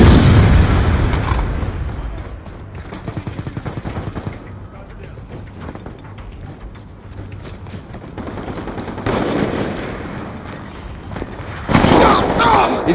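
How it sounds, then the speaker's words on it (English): Airstrike explosions and gunfire in Black Ops 2, a continuous rumbling barrage of booms and crackling shots at fairly close range, swelling louder near the end, with brief voice callouts mixed in. "Friendly lightning strike inbound."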